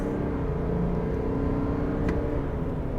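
A 2023 Chevrolet Silverado Trail Boss diesel pickup in 4-wheel drive auto accelerates hard from a brake-torqued launch toward 60 mph, a steady loud engine drone with rising harmonic tones heard from inside the cab.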